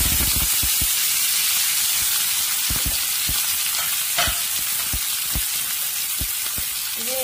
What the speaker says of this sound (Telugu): ఈ మరిగిన ఆయిల్లో ఉల్లిపాయ వేస్తాను